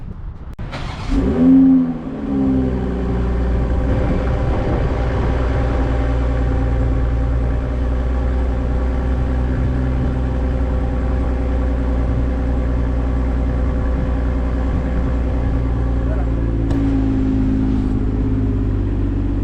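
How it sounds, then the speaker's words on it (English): A 2021 Toyota Supra on its stock exhaust starts up close by, a brief rise in revs, then settles into a steady, deep idle that hums on evenly for many seconds. "Sounds pretty good for a stock exhaust."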